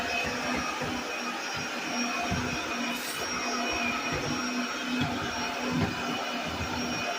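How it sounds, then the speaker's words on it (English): Vacuum cleaner working on carpeted stairs, a steady, loud, continuous motor whine and airflow roar with slight shifts as it moves along corners and edges, with no talking. "we're still just vacuuming, doing corners and edges"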